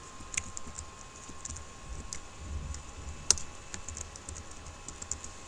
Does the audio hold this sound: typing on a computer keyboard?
yes